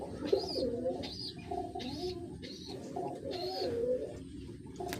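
Pigeons coo close by in a repeated series of about five soft, rolling calls at a fairly even pace over a quiet background.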